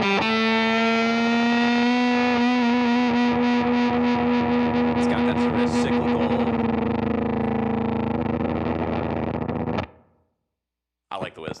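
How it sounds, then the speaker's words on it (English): An electric guitar played through a Walrus Audio Eons Five State Fuzz pedal rings out with a thick, saturated, cyclically wavering fuzz tone that cuts off abruptly near the end, with someone speaking briefly over it. "That 5th level is really if you want to send your fuzz into the moon, that's what you want to do."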